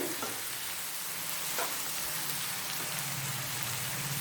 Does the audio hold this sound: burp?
no